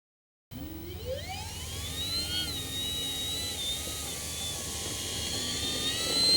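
A KAVAN Norden 1600mm PNP model airplane in flight gives a motor whine that swoops upward in pitch, then holds a steady buzzing drone that grows louder toward the end, with no talking.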